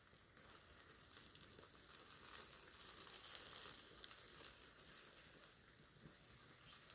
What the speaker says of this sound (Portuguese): Olha o barulho fritando na banha dele